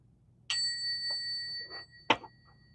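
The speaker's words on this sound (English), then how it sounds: "We're gonna ring the bell," A bell rung indoors, two bright ringing strikes about a second and a half apart, the first tone sustaining clearly before a second sharper hit, with a few faint knocks between and no talking.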